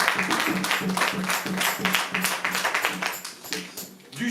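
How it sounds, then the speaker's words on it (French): A church congregation applauding during a Sunday service, with steady, full clapping from many hands that keeps going for several seconds and fades slightly near the end. "vous pouvez applaudir Jésus"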